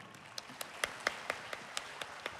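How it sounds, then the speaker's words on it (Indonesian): Sparse, individual hand claps from a small audience at an education ministry gathering with teachers, about ten distinct claps at a steady rhythm, fairly faint and close. "silakan tepuk tangan, tepuk tangan."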